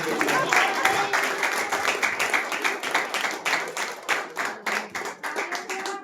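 A church congregation at a deliverance prayer meeting claps hands in quick, fairly regular beats that grow firmer and more rhythmic, with a voice heard over the clapping near the start.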